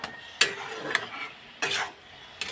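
Cane greens, softened and releasing water in a frying pan, are stirred with a few separate scraping strokes over a quiet background sizzle, close and unaccompanied by speech.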